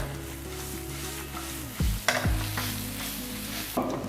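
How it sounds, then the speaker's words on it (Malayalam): Coriander and turmeric powder roast in a pan with a soft, steady sizzle, broken by a few sharp scrapes and clinks of a spoon stirring against the pan. "സ്പൈസസ് എല്ലാം നന്നായിട്ടൊന്ന് റോസ്റ്റ് ചെയ്യാം"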